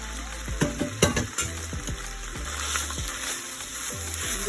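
Steamed glutinous rice with a little brown sugar being stirred in a pan over a medium flame, a continuous sizzle broken by repeated scraping and stirring strokes close by, no voices.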